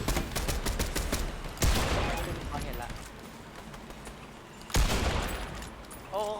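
Bursts of rapid gunfire crackle in a video game, loud volleys opening the clip and returning in sharp clusters, with a player talking over the shooting.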